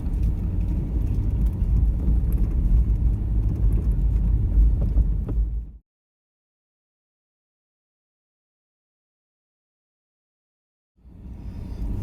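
A 4x4 drives on hard-packed beach sand at Rainbow Beach, Cooloola, Australia, with a steady, loud low engine and road rumble that cuts to silence midway and resumes briefly at the end.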